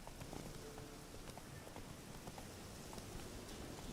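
A horse gallops in The Witcher 3, with steady, dense hoofbeats running under a continuous wash of broadband ambient noise through the whole stretch.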